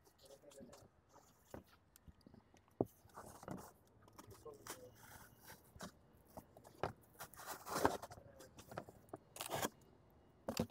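A blade slices through a cardboard cooler box in sharp, intermittent scratches and tearing strokes, close and fairly quiet, with a voice murmuring between the cuts.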